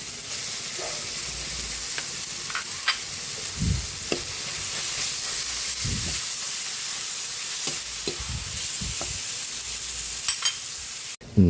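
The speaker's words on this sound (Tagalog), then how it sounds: "Lagyan na rin natin yung giniling." Ground meat sizzles steadily with chopped tomatoes in a hot pan, a continuous close hiss broken by occasional low scraping thumps of stirring, with no voices.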